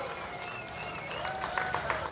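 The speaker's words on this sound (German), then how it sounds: "großen Applaus für Jordi Texier, Max Nagel und den Sieger Tom Koch" Crowd at an ADAC MX Masters motocross event in Bielstein applauds the race winners, a moderate, fairly soft patter of clapping with some crowd noise, while other sounds continue in the background.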